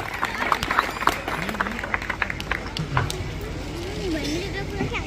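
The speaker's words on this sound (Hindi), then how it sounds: "जोरदार तालियां बजाएं।" Crowd at a political campaign rally in Bhokardan claps and cheers, a dense, steady wash of applause with voices and shouts mixed throughout.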